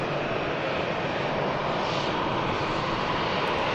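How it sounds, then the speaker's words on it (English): A Lufthansa airliner taxiing at Manchester Airport gives a steady, broad engine rush that stays close and even throughout, with no talking over it. "And Lufthansa just taxiing past us at the RVP"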